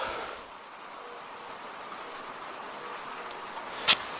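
Light rain falls through a misty, damp mountain forest on a hike, making a soft, even hiss. Near the end one faint, brief high chirp cuts through.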